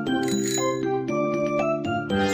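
Cartoon-style bicycle bell ringing over bright, steady background music, with repeated metallic dings and jingles sounding loud and close, with no voices.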